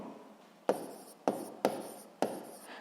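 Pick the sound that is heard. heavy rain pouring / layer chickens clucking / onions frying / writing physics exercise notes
writing physics exercise notes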